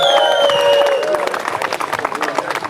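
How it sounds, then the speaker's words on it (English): A crowd at a tailgate party breaks into a round of applause after a speaker's thanks, with dense, steady clapping and some cheering close by and no speech over it. "to Jess and Naomi, a round of applause."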